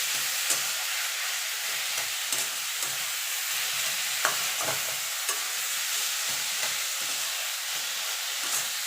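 Cauliflower mash with Kashmiri chilli powder stirred in a pan over heat, a steady sizzling hiss broken by repeated scraping strokes of a spoon at an unhurried rhythm, close and alone.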